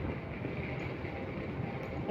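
An MRT metro train rolls past with a steady, loud rumble and roar that holds without a break for the whole stretch, with no voices over it.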